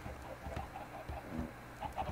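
A Minecraft chicken gives a few soft, short clucks scattered through a quiet game background, fairly faint and with no talking.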